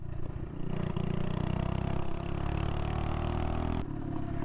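Minibike fitted with a Predator 212 motor bogging as it rides through a school zone, a loud, steady mid-pitched engine drone that sags and labours before dropping off near the end.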